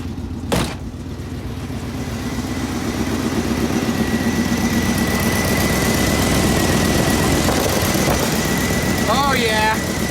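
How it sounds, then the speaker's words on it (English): A 1999 Chevy K1500 pickup with a 5.7 Vortec engine idling with an exhaust manifold leak, a loud steady rumble with a ticking rasp running throughout after a brief sharp knock near the start. "that's definitely coming from the exhaust manifold"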